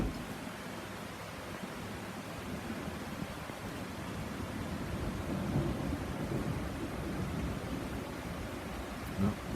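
Thunder during a thunderstorm under a tornado warning in New Hampshire: a faint, distant, continuous low rumble rolling on with a hiss like rain, and no clear talking.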